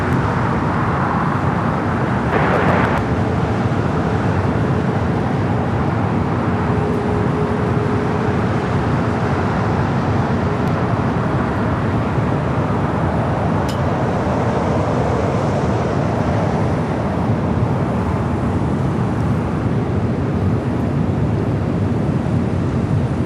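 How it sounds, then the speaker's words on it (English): An American Airlines Boeing 737-800 jet taking off at LAX, a sustained loud roar of engine thrust with a steady rumbling wash that holds throughout, heard from a distance amid airport surroundings. "Our next takeoff, American Airlines flight 2766 heading to Dallas Fort Worth, Texas."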